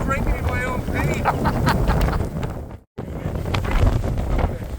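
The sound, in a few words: wind blowing into the microphone outdoors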